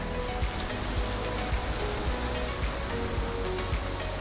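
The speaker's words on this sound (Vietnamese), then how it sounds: "Nước biển nó đánh vô." Sea waves wash against a beach shore, a continuous broadband surf with regular soft surges and rolling foam, fairly close and steady with no talking.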